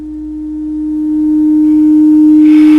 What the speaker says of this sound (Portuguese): Um tom é tocado no ouvido direito.